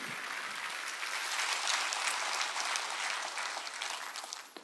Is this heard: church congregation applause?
yes